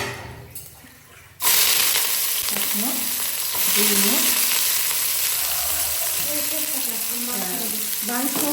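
Onions drop into hot oil with cinnamon for a spicy mutton curry, bursting into a loud, steady sizzle after a quieter start, with stirring scrapes and a voice talking over the frying.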